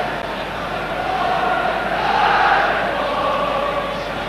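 A large football stadium crowd at a 1985 World Cup qualifier between Scotland and Australia roars steadily throughout, a dense, continuous wash of massed voices swelling slightly in the middle, with no single voice standing out.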